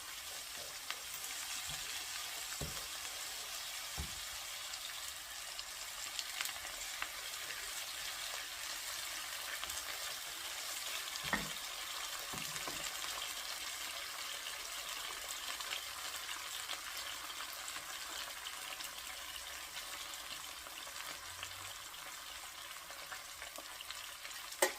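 Garlic paste sizzling and frying in a pan alongside fish head, a steady hissing crackle heard close up, with a few soft stirring knocks and no talking.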